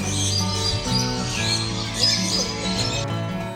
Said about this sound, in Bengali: বার্ড পার্ক, যেখানে দেখতে পাচ্ছেন পাখিগুলো কিন্তু বাইরে উড়ে বেড়াচ্ছে